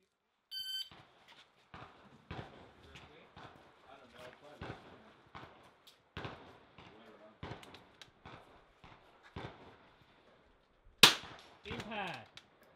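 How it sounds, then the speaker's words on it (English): Rimfire rifle shots ring out at an NRL22 match on an outdoor range: a series of sharp, separate cracks at irregular intervals, fairly distant, with one much louder report near the end. "Good shooting, Wayne."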